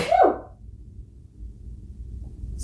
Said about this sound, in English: Sorry, gotta sneeze.